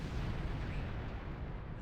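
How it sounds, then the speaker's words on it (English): A deep rumbling explosion in the Star Trek Online game, a dense, loud blast that rolls steadily for about two seconds without a break. "Don't mind that explosion."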